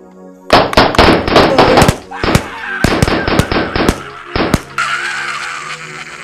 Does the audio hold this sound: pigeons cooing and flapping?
no